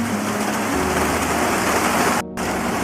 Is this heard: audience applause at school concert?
no